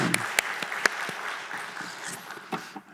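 A congregation claps during an early-morning Holy Week prayer service at a church, giving scattered, fairly faint applause with a few sharper individual claps standing out as it trails off over a few seconds.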